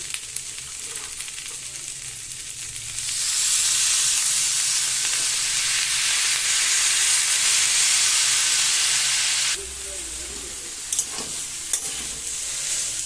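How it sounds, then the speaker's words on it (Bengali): Loud broadband sizzle as drumstick flowers are dropped into spices and Kashmiri red chilli powder frying in a pan, the hiss jumping up suddenly, holding steady for several seconds, then easing back to a quieter fry with a few clinks. "এবার আমি সজনে ফুলটা দিয়ে দিচ্ছি।"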